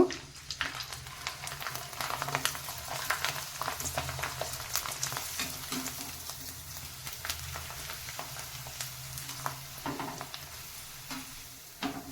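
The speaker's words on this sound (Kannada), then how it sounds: "ಇಲ್ಲಿ ಎಣ್ಣೆ ಕಾದಿದೆ ಒಂದೊಂದೇ ಈ ಥರ ಕರ್ಕೋಬೇಕು" Sandige, sago wafers, dropped one by one into hot oil to fry: a steady, close crackling sizzle with bursts of bubbling that carries on without talk.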